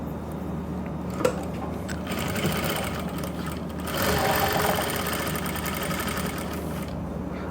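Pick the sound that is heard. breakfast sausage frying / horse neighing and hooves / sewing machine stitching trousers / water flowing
sewing machine stitching trousers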